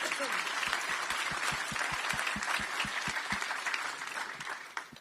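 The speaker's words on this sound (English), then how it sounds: "let's just give them a big round of applause." A crowd applauds steadily, with regular sharp claps standing out up front, tapering slightly toward the end.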